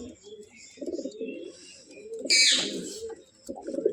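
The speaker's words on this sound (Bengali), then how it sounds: "টেডির পায়রা।" A teddy pigeon coos in soft, repeated low phrases near the listener, broken by a brief loud hissing burst midway before the cooing resumes.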